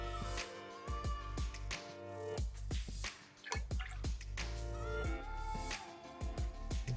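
Grenadine, a house-made syrup, is poured in small measured dashes into a cocktail, giving quiet dripping and liquid splashes with soft clinks, close and faint, with no talking.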